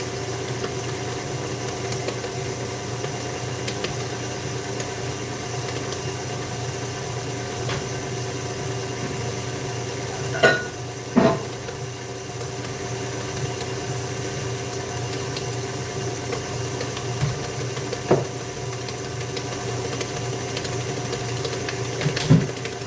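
An electric mixer creams butter for buttercream, giving a steady, moderately loud mechanical whir with a constant hum that holds throughout, with a few brief knocks and clicks near the middle and no talk.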